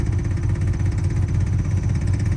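A Ford Model A engine idles on a Holley 94 carburetor with the fuel pump running. It gives a steady, loud, low rhythmic chug with a light mechanical clatter, close up and with no voices.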